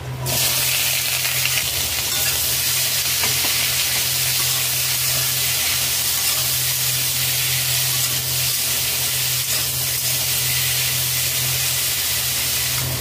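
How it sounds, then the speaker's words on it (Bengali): Pumpkin and potato frying in two tablespoons of white oil in a wok, giving a steady, loud, continuous sizzle and hiss that holds unbroken from start to finish with no voices. "কড়াইতে সাদা তেল দিয়েছি 2 টেবিল চামচ। কুমড়ো আলু ভেজে নেব।"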